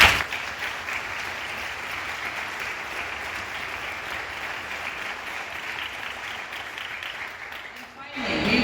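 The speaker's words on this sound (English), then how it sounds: "could we please have a round of applause for the League of Women Voters?" A sustained round of audience applause for the League of Women Voters at a Red Wing school board candidate forum, loud and even throughout before tapering near the end as noise shifts.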